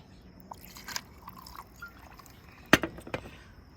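Peach schnapps, vodka and orange juice are poured for a cocktail, heard as faint liquid trickles and drips with soft glass clinks and one sharper knock near the end.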